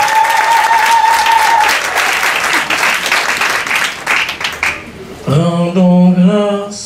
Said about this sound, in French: Avec des cris de joie, des ovations, pour l'applaudissement pour notre Dieu.